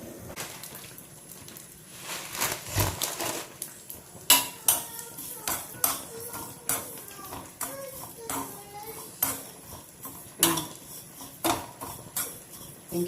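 Semiya vermicelli being fried golden in a pan, a spoon scraping and clinking against the metal in irregular strokes, with a voice and household chatter in the background.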